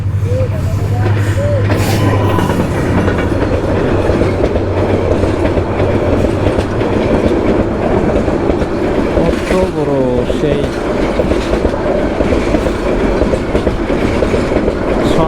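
A train rumbles past on rails with a steady rhythmic clickety-clack of wagons, loud and close throughout, and a brief horn-like tone near the start.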